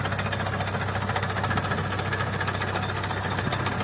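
A Chinese 40-horsepower tractor engine with a potato digger idling with a steady low chugging rumble and a fast knocking rhythm, constant throughout with no talk.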